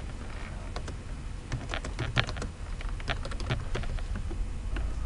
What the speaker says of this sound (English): you can then start typing lines of code as you need to